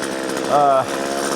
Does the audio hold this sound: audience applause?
no